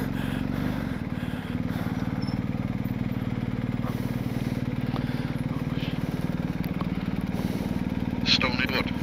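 A motorcycle engine runs steadily nearby on a winter ride with chains on the tyres, a constant low droning throb that fills the clip while people talk over it.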